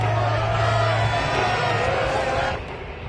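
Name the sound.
home crowd cheering in Madden video game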